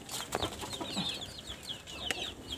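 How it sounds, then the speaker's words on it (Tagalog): A farm chicken clucks close by in short, repeated calls, with a few sharp knocks among the clucks. "Pinalaga natin yung manok natin."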